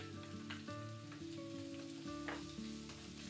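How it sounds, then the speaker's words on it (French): Garlic and chili frying briskly in a spoonful of oil in a sauté pan for Thai pork with nam prik pao, a steady close sizzle with crackling bursts and faint tonal kitchen hum underneath, no voices. "verser une petite cuillère à soupe d'huile, faire revenir rapidement l'ail et le piment"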